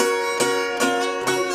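A slide guitar in a country blues style rings out with the slide pressed too hard onto the strings, giving three buzzy, bright plucked notes in slow succession, close and fairly loud with no voice.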